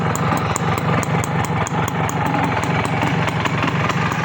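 A Honda CDI 100 motorcycle idles close by, its engine running steadily and loudly at an even pulse for the whole stretch, with no voices over it.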